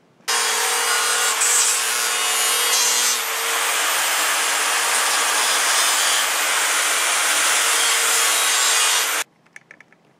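A power tool, likely a grinder or sander, smooths the cut face of a homebuilt metal deer carrier rung. It runs steadily and loudly for about nine seconds, then stops, leaving a few faint clanks.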